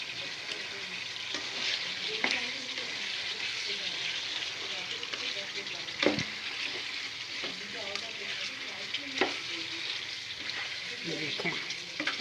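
Beef tikka karahi sizzling and frying steadily in a pan, with occasional scraping knocks as it is stirred, close and continuous, no talking.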